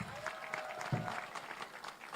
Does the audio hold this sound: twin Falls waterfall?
no